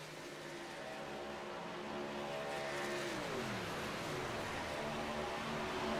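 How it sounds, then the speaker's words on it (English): Several truck engines drone and fade at Pocono Raceway in a truck racing video game as drivers shut them off to save fuel. The engine tones are fairly quiet and overlapping, with pitches sliding downward midway. "You can hear engines shutting off. That's the driver shutting off the engine, trying to save as much fuel as they can."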